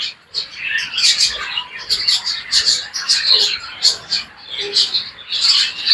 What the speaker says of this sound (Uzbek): Buları bu yoqda mana maladoy qushlar.